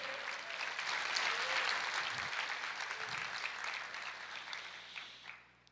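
A church congregation applauds in praise during a sermon, a steady wash of clapping heard at a distance and quietly, fading away at the end.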